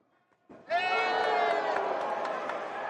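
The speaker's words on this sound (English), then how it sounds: "The crowd go mad" Boxing match crowd at a fight night in Galveston erupting into loud roaring cheers and whoops after a quiet moment, a sustained wall of voices that stays strong to the end.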